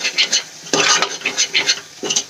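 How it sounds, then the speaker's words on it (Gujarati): A spoon stirs and scrapes spices sautéing in a pan, making close, repeated scraping strokes over a soft sizzle. "હવે બધા મસાલાને સરસ રીતે આપણે મિક્સ કરીને સાંતળી લઈશું"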